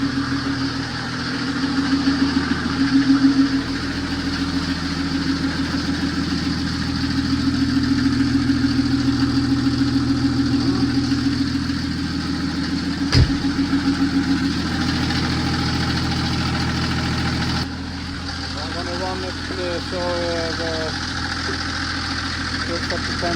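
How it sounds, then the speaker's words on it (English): Volvo TGB 11 C303 offroad truck with a Mercedes OM603 diesel engine idles steadily, a continuous low rumbling hum throughout, with people talking nearby. "This is a really nice engine."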